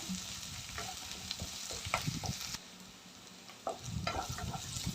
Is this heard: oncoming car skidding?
no